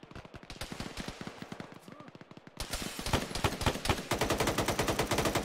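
Rapid bursts of automatic SG-551 rifle fire in a military shooter game, dense rattling volleys that grow louder and more continuous in the second half.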